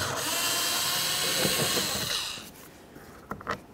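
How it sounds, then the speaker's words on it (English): A Torx bit driving out a screw on a 2007-2012 Dodge Caliber door panel: a close, steady power-tool whir runs for about two and a half seconds, then stops, followed by a few light clicks and handling sounds. "Now we're gonna use a Torx bit"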